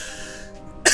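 A single sharp cough bursts out loud and close at the very end, following a second of quieter steady room tone with no talking.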